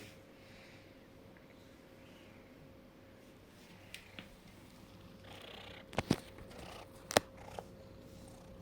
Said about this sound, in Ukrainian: Криво муркає.